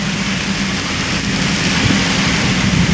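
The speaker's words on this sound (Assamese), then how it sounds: "বৰষুণৰ বতৰ তামাম ডবল বৰষুণ দিছে" Heavy rain pours steadily outdoors in Borhat, Assam, a dense, continuous hiss of falling water, loud and close, with no talking.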